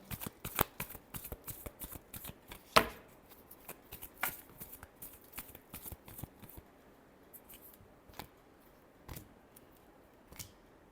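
Tarot cards being shuffled by hand, a run of crisp riffling flicks and sharp card slaps in an irregular rhythm, close and clear with quiet gaps between bursts.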